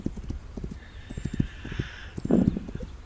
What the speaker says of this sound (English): So this is just the game driving the cart,